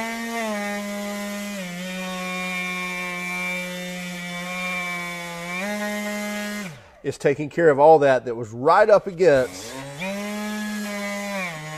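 A Milwaukee M12 FUEL orbital detail sander with a 1.5 mm orbit runs steadily against wood trim, a close, even high-pitched buzz that drops out briefly while someone speaks, then resumes.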